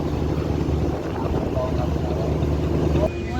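Steady droning engine of a passenger launch boat on the river at night, a continuous loud rumble filling the clip with a brief tonal whine near the end.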